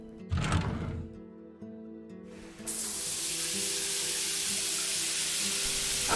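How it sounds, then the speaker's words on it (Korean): A shower runs steadily with a broad hiss of falling water on a hot evening in a village, rising abruptly after a short musical passage and continuing evenly to the end. "자이프는 샤워하는 소리가 들리는 쪽으로 조심스럽게 다가갔습니다"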